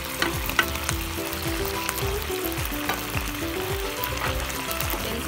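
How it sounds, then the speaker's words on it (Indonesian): Garlicky marinade hits baby back ribs frying in a pan, setting off a loud, dense, continuous sizzle and crackle with faint bubbling throughout. "Isunod na natin yung pinagbabadan pa natin ng ating baby back ribs."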